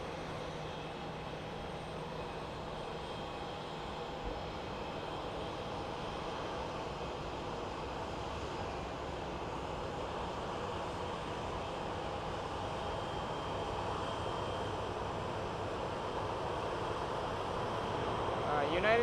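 A United Embraer E175 jet passes at Boise Airport. The engine roar is faint and distant, a broad, steady rumble that swells slowly toward the end.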